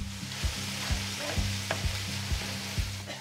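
Beef, onions and other vegetables sizzle steadily in a pan while a utensil stirs them, making regular soft scraping knocks every half second or so over the continuous frying hiss.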